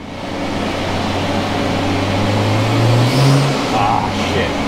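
A BMW 335i with a 17T turbo upgrade revving through the gears on a dyno, a loud engine note climbing steadily in pitch, with a voice speaking over it.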